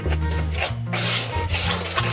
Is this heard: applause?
no